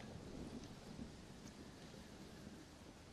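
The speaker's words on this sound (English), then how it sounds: "Well, it's just the storm, John." A thunderstorm with rain in the video game Red Dead Redemption: Undead Nightmare, a faint, distant rumbling wash of rainfall with soft thunder underneath and no speech.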